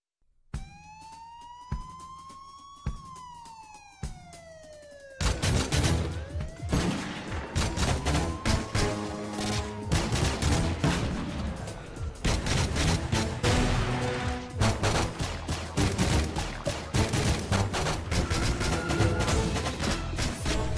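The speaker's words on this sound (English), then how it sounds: "it's when you synchronize a bunch of gun sounds with a song" Rapid gunshot bursts and fusillades cut in time to a cartoon theme tune, opening with a rising and falling siren-like tone before dense, loud rhythmic gunfire carries the melody, with no talking.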